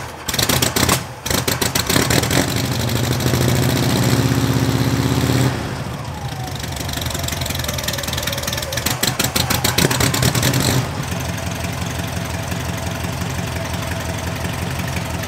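A BMW 700 car engine runs after a motor swap, a loud, close, uneven idle with rough knocking pulses and brief changes in revs across the whole stretch, with no talk.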